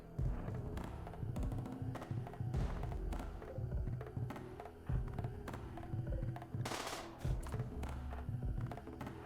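Gunshots fire in the video game RimWorld during a tribal fight, a series of dull thumping pops at uneven intervals over a low hum, with one brighter crack near the end.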